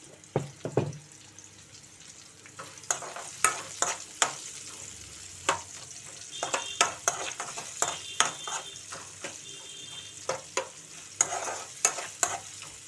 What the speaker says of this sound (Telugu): ఉల్లిపాయలు వేగాలంటే ఫస్ట్ కొంచెం సాల్ట్ అయితే వేసుకోవాలి కదా తొందరగా మగ్గుతాయి